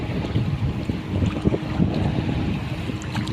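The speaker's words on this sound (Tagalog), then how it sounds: "Medyo malaki yung alon" Rough sea waves slosh and churn around a small boat, with buffeting wind noise across the microphone and an uneven, surging low rumble throughout, no voices.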